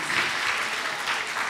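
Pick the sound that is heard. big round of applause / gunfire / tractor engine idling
big round of applause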